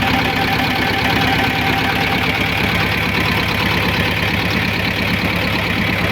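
A loud T-25 tractor diesel engine idles steadily up close, with a constant low rumble and rhythmic knocking throughout.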